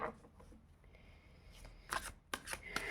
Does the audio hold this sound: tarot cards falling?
yes